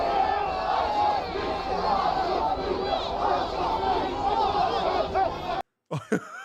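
A large, densely packed crowd roars and cheers continuously, a loud wall of overlapping voices that cuts off abruptly near the end.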